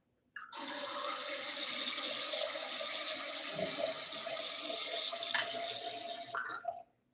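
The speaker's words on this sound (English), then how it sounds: "this is a wine aerator. So you pour your wine through here." Wine poured through a handheld wine aerator, a steady airy gush of liquid with a bright hiss running continuously for about six seconds, close and fairly loud, with no talking.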